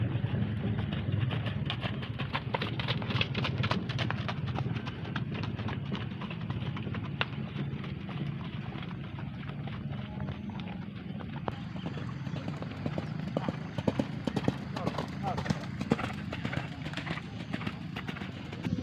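Racehorses during morning training at the traditional Gayo horse-racing track in Central Aceh, hooves clip-clopping in a steady, busy patter against continuous outdoor background noise, moderately near.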